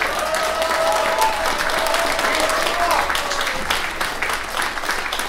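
Audience applause at a jazz philharmonic orchestra concert, loud sustained clapping from a large hall crowd with a few whistles or cheers rising above it, continuing steadily before easing slightly.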